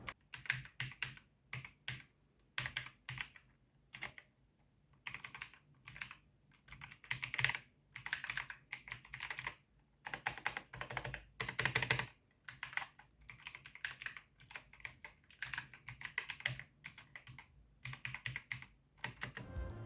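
Typing on a Tsunami JX-104 mechanical keyboard with blue switches, rapid close clicky keystrokes in uneven bursts with short pauses, loud and crisp with no voices.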